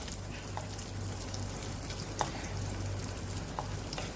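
Raisins sizzling and frying in hot fat in a pan, prepared for Kerala unnakkaya, with a steady close crackling hiss and occasional sharper pops throughout, no talk.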